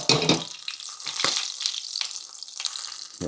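Hot oil sizzles and crackles in a pan as it heats for frying squid, with short bursts of spitting and popping standing out close and clear, and no voices.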